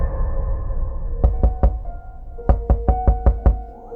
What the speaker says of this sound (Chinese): 我被一阵敲门声吵醒